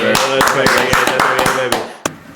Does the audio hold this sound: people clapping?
yes